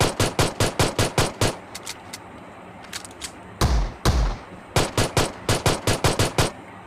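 Rapid bursts of video game gunfire, including an M24 sniper rifle, crack in quick rhythmic volleys, pause briefly around a couple of heavier booming shots, then resume in fast repeated strings.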